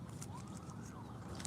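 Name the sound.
police car siren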